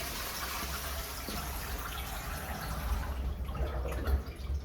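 Water poured into a blocked toilet during a drain call-out, a steady faint splashing and trickling that grows slightly louder toward the end with no talk over it.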